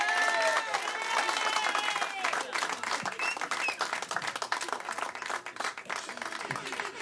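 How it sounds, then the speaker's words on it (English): An audience at an artist showcase claps and cheers, loud at first with a voice briefly audible, then thinning into scattered, uneven claps. "Hey, give me another round of applause for this."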